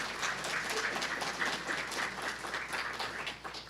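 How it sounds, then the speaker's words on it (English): Audience applause at the Howard County Library System's Project Literacy graduation ceremony, a sustained, even wash of clapping from a crowd in a hall, fairly soft and unbroken. "Let's give them a round of applause, please."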